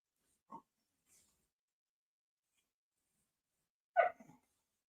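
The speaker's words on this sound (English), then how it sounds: "this dog don't ever want to act up until I'm on a live stream" An indoor dog gives two short, faint barks or whimpers a few seconds apart, with near silence between them and no talking.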